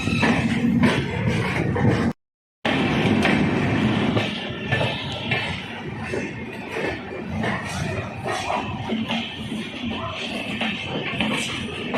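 Lucknow–New Delhi AC Superfast express (12429/12430), hauled by a Northern Railway Ghaziabad-shed WAP5 electric locomotive, passing through Ghaziabad Junction with a steady loud rumble and rattling coaches throughout, briefly cut by a short gap.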